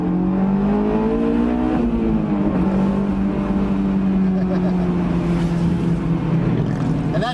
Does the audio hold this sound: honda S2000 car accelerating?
yes